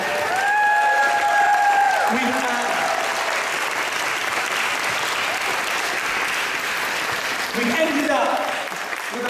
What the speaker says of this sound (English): Give yourselves, I'm going to do this,